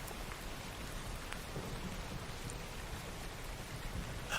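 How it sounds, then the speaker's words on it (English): Steady rain on surfaces, building up from a light drizzle into a fuller patter, a dense even hiss with scattered drops throughout and no voices. "what had been a light drizzle starts picking up a little bit more"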